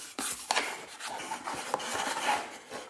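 A cardboard box is rubbed and handled up close while a whiskey bottle is taken out, giving soft scraping, rasping and light tapping sounds in an uneven rhythm.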